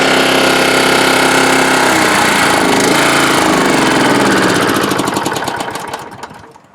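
A 1987 Honda HRA214 lawnmower engine runs loud and steady at high throttle on its first startup of the season, then sputters, slows into uneven firing pulses and dies away near the end.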